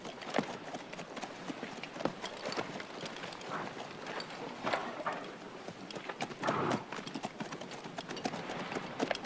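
Horses walk over the ground, hooves clip-clopping in a dense, uneven, overlapping rhythm from several animals at moderate distance, part of a 1961 Western film scene.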